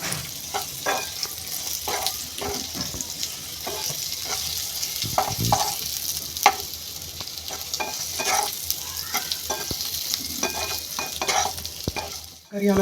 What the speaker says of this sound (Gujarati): મસાલો નાખીને હવે આપણે આવી રીતે ફ્રાય કરવાનું છે